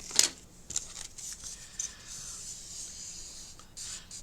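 Paper being cut for a matchbook-style recipe craft album, with a few short, quiet scissor snips and rustles spaced apart over a low background hiss.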